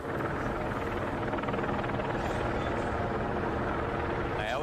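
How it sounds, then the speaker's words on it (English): A county sheriff's helicopter circles 400 to 500 feet overhead, its continuous, steady rotor roar filling the background throughout. "County Sheriff's helicopter circling 400 or 500 feet above. You can hear that."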